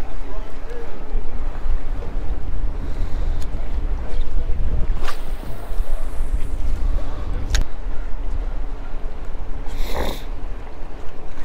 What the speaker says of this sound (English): We got wind blowing right in our face,